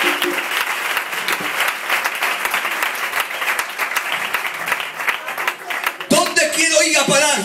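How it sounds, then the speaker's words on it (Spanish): A church congregation applauds loudly and steadily for several seconds, a dense wash of clapping, before it gives way abruptly to singing or a voice over the last second. "Un aplauso a la palabra bendita del Señor"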